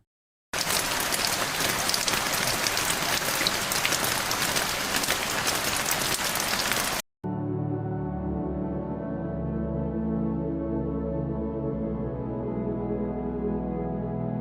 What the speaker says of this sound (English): San Francisco's streets are awash as the city faces an onslaught of rain